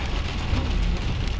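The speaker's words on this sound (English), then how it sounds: "It's raining again here in my hometown." Steady, dense rain pattering on a U-Haul truck, constant and close with a low rumbling backdrop, no voices.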